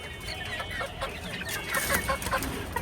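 A pen of about twelve roosters kept for sale gives steady overlapping clucks and short calls, close and fairly loud, with a busier cluster of sharp notes toward the end.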